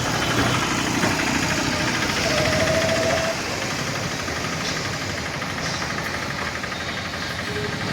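A houseboat engine idles and chugs throughout, a low continuous rumble with a brief rise in intensity early on.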